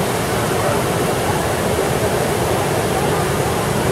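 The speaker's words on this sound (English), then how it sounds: "There's another waterfall." A loud, unbroken roar of a hot-water waterfall at Grutas Tolantongo, Hidalgo, Mexico, fills the scene, dense and close without pauses.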